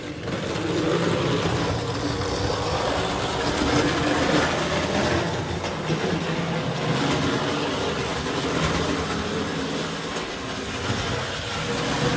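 A Hornby Dublo 3-rail model train locomotive runs steadily around its track, producing a continuous dense rumbling whir with a faint rhythmic clatter that holds level throughout.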